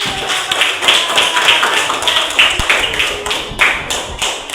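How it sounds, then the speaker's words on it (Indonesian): Classroom applause from a group of students after a group presentation on faith in prophets and messengers, steady dense clapping lasting throughout with no talk over it. "Kasih tepuk tangan."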